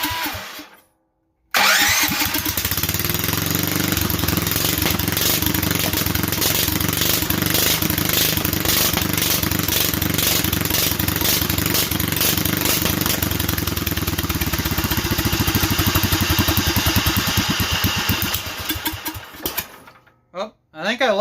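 A Duromax 440cc engine fitted with upgraded jets and pilot starts after a brief pull and runs with no choke and some throttle, a loud, steady, chugging roar that drops off and sputters near the end.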